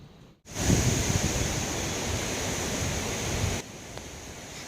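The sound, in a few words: Hurricane Helene wind and rain in Tampa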